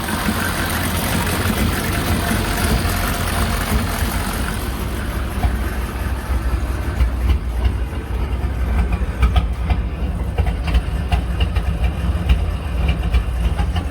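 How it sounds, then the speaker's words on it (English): A GMT400 Chevy truck's diesel engine idles rough, giving a continuous loud low rumble with uneven knocking pulses throughout, heard up close with no talking. "The new Jeffive Diesel is now running bad."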